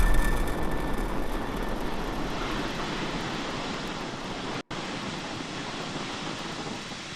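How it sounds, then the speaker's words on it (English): A SpaceX Falcon 9 rocket climbs away after liftoff from SLC-4E at Vandenberg Space Force Base, California, a dense, continuous crackling roar, broad and loud, holding steady with one abrupt instant dropout midway. "Falcon 9 has successfully lifted off from SLC-4E at Vandenberg Space Force Base in California"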